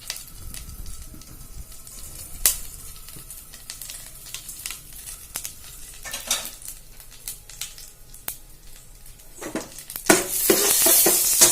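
Mustard seeds splutter in hot oil on a stove. Scattered sharp pops and crackles come at first, then swell into a loud, dense sizzle near the end.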